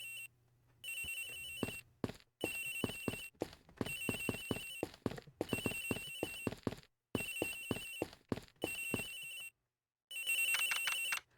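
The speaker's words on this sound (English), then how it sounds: "Agent Hicks' phone! It's ringing from somewhere, sir." A cell phone rings repeatedly in the video game Ace Attorney Investigations, bright electronic trilling bursts in a regular on-off pattern, about eight rings with short silent gaps, alone without talk.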